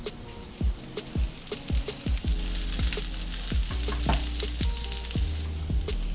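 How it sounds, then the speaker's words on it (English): Garlic cloves fry in bacon fat, a lively close sizzle with repeated clinks and taps of a utensil against the pan at an uneven rhythm. "Garlic smells so damn good when you cook it"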